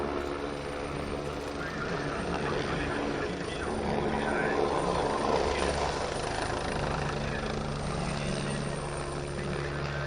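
A helicopter flies during an aerobatic display at a helicopter expo in Tianjin, its steady rotor and engine drone continuous and fairly loud across the whole stretch, with crowd or announcer noise mixed beneath.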